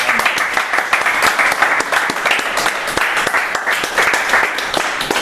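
Loud, close applause from a church crowd, sustained dense clapping with sharp individual claps throughout and no pause.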